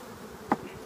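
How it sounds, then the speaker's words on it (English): Honey bees in a nuc hive box hum faintly in a brief buzz, with one sharper buzzing burst near the middle. "Then there's still quite a few bees in the box."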